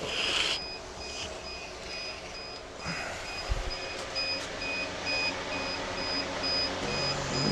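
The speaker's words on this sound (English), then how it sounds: "There's the alarm to tell me I'm doing something wrong here." An egg incubator loaded with duck and goose eggs sounds its alarm, a series of evenly spaced high electronic beeps over a background of handling noise and rustling.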